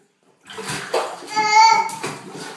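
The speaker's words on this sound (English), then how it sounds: "Zachary, splash, splash, splash." A small child splashes water in a bathtub, with sloshing and slapping close by, while the child vocalises and chatters over the splashes.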